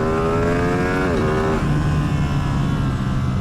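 A Ducati Streetfighter V2 L-twin motorcycle on its stock exhaust revs up, holds a rising engine note, then drops back to a lower throb, close and fairly loud with no talking.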